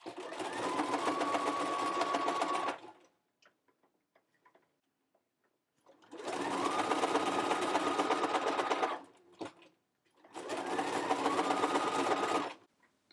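A sewing machine stitching an elastic waistband onto a tiny doll skirt runs in three bursts of fast, steady whirring and ticking, each about three seconds long, with quiet pauses between them.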